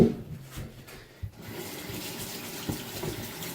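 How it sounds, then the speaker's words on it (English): Tap water runs steadily into a sink during hand washing with soap in a home chemistry lab, a continuous close splashing rush with a few louder bumps and no talking. "Now, I'm going to wash my hands"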